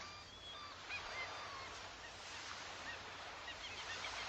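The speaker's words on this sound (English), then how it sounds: "listening to the seagulls" Faint seagulls call at a beach over a soft wash of surf, with a few thin, scattered cries drifting in from a distance across a steady background hiss.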